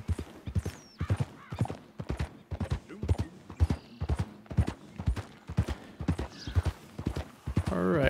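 Horse hooves clip-clop in a steady, even rhythm through most of the stretch in Red Dead Redemption 2, close and prominent as the horse moves near a river, with a brief whinny-like sound and a denser noise swelling at the end.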